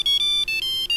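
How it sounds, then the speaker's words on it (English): Synthetic ringtone in the OMSI 2 bus simulator, on the Aachen route, chirping in short repeated electronic bursts with brief gaps, steady and fairly loud, with no voices. "that sounds like a phone is starting up for some reason"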